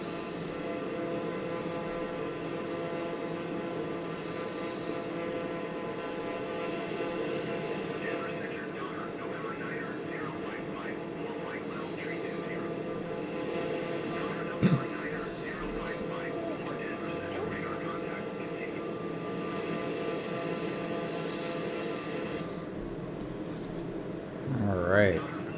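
In Microsoft Flight Simulator, a small plane's engine drones steadily and evenly for the whole stretch, with a brief bump near the end.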